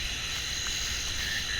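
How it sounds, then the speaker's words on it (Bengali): Steady night insect drone, likely crickets, fills Dalma forest in the dark, a continuous high buzzing with a faint low rumble beneath it, no pauses throughout. "চারিদিকে শুধু ঝিঝি পোকার ডাক"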